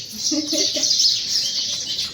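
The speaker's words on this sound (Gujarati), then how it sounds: "અમારે ઘરે ચકલા બહુ સમજો માળા મૂક્યો છે" House sparrows nesting at a home chirp in quick bursts, fairly close and loud, over a steady hiss.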